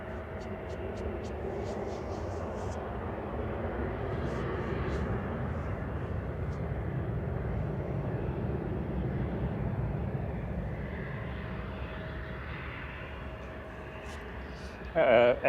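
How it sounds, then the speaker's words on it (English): An Air Transat airliner lands at Manchester Airport with heavy aerodynamic braking, producing a continuous, fairly distant broadband roar that swells slightly in the middle and stays steady for the whole stretch. "Air Transat landing was cool."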